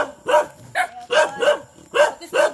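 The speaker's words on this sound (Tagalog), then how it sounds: "Nagbark ang aso nila sa akin." A dog barks at someone during an outing in Alicia, Bohol, with several sharp, evenly spaced barks in quick bursts, close and fairly loud, alone without talk.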